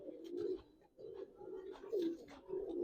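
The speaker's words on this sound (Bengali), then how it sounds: "এটা রাজশাহী তুলা কবুতর ভাই।" A Rajshahi Tula pigeon coos close by in a run of about four low, throaty, rolling phrases separated by short pauses.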